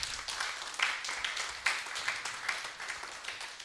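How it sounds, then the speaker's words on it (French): An audience at an International Women's Day celebration claps steadily for several seconds, a moderate, fairly even patter of hands in a room. "Applaudissez pour vous-même."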